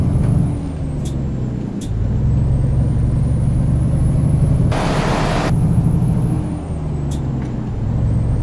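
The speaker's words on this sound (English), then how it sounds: "Nope, grinding gears." A truck's engine drones loudly and steadily close by, and partway through a short harsh burst of gear grinding cuts through the rumble before the drone carries on.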